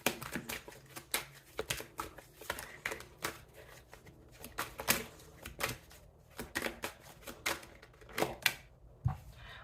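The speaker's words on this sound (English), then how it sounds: "I'm going to keep shuffling" Tarot cards being shuffled by hand, a quiet, close, irregular run of crisp riffling and slapping bursts with short pauses between them.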